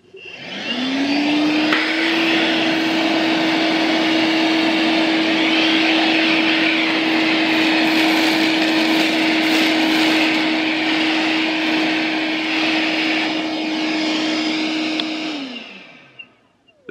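A Milwaukee M12 0960-20 portable vacuum on its low setting spins up, runs with a steady whining hum while sucking up sawdust and metal chips, then winds down and stops.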